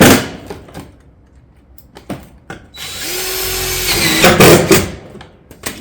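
A power drill drives fasteners into metal roofing panels on a barrel vault tile roof, loud and close, in short whirring bursts between pauses, with one longer steady run of the motor.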